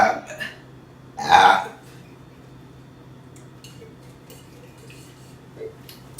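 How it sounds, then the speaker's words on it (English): A single loud, drawn-out burp rises from a quiet room, followed by faint scattered rustles and clinks of a meal setting. "Be sure to burp with your stomach."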